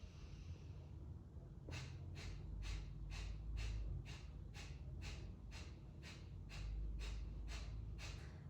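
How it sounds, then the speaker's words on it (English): Kapalabhati breathwork in a Kundalini session, with a quiet inhale followed by a steady series of about twelve sharp, rhythmic nasal exhalations, evenly spaced and close to the microphone, with no talking. "Kapalabhati breathing."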